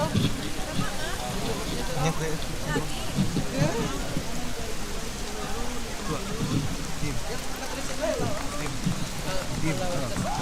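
Steady rain patters on surfaces at an outdoor traditional ritual festival in a West Sumatran nagari, a dense continuous hiss throughout while people talk over it.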